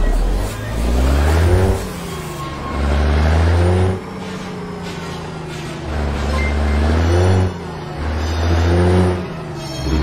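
A heavy Brazilian city bus engine revs and accelerates in repeated rising surges, loud and close, with gear changes between pushes.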